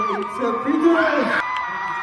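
A concert crowd screams and cheers for ASL interpreters at a show, a dense, sustained roar of high whoops and yells that drops off sharply partway through, with talk audible beneath it.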